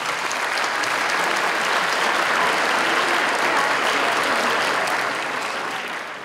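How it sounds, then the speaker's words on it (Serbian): Sustained applause from an audience at a formal centenary ceremony for a public library, a dense steady clatter of many hands that holds loud throughout and tapers slightly at the end. "Može jedan aplauz za naše drugare"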